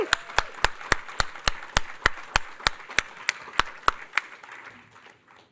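A single person clapping close by at a family forum weekend welcome, about sixteen sharp, evenly spaced claps in a steady rhythm that gradually soften and stop, with a faint murmur behind.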